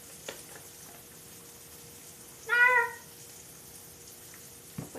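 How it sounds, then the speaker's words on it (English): A cat gives a single clear meow in a kitchen where meat is being prepared, a short mid-length call standing out against a quiet room hum, with a few faint clatters before and after. "Which one of you is meowing right now?"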